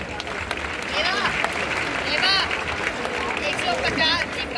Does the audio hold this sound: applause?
yes